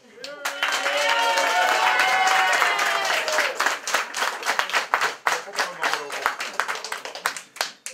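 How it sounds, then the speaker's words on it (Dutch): Audience applause at a Dutch gathering, starting loud with excited voices over it, then thinning into scattered individual claps toward the end. "Doe het, ja, hier is de een applaus!"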